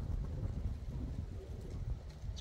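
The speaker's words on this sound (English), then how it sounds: "it's windy. Tripod shaking." Wind blows outdoors and buffets the microphone, a steady rough low roar as a tripod shakes.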